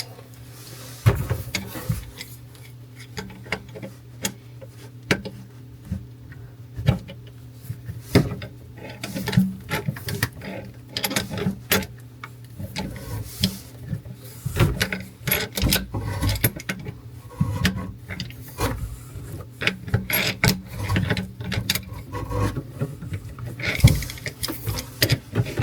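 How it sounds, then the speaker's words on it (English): A small red and black wrench snugs down the nuts on a kitchen faucet under a sink, giving a busy run of scraping, rubbing and ratcheting clicks with knocks throughout, close and moderately loud over a low hum. "I'm going to get my little wrench. It's the red and black wrench. And I'm going to run them down."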